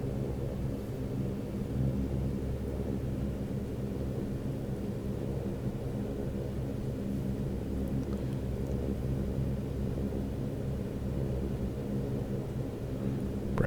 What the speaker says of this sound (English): This airplane does not mind taxiing.